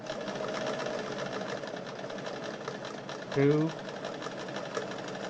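Bernina 817 sewing machine with a two-speed motor running steadily, a close, even mechanical whir and clatter under a voice, with a brief louder surge partway through.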